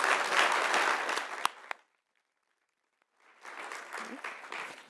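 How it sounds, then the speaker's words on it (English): An audience at a conference claps loudly, the applause fades into a brief silence, then a second burst of clapping rises again. "Let's finish off with one more round of applause,"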